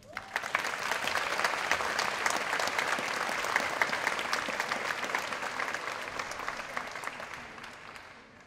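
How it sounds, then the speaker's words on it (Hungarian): A school hall crowd at a Hungarian secondary school ribbon ceremony applauds the teaching staff, with steady, full clapping that holds for several seconds before gradually tapering off. "szeretnék egy óriási tapsot kérni az egész tanári karnak"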